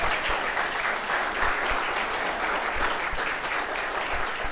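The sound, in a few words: applause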